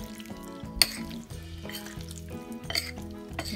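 Meat sears in a pan while stir-fried noodles are being prepared, giving a steady sizzle under a faint sustained tone. A sharp utensil clatter lands near the start, with softer stirring knocks later.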